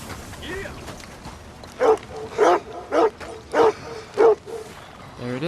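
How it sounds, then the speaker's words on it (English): A dog in the Western open-world game Red Dead Redemption 2 gives a run of five or six evenly spaced, fairly loud barks mixed with whiny yips, with faint background sound between them. "Oh, I hear a dog."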